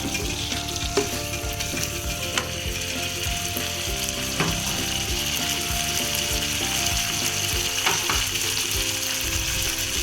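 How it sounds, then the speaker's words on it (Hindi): Mutton karahi masala with garam masala fries in a pan, a dense continuous sizzle with occasional metallic spoon clicks and scrapes, close and loud throughout, with no one speaking. "अब इसको ज़रा सा भून देना है।"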